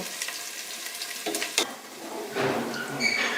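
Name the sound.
onion garlic paste being stirred and fried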